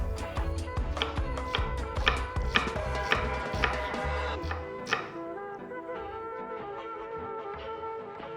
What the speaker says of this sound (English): I'm going to chop the onion in thin slice.